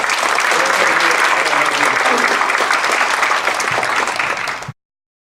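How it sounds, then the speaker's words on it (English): Loud, dense applause from a large audience at a live talk event as a speaker comes on stage, sustained steadily and close before cutting off abruptly near the end. "Please have a big clap for Ha Boy!"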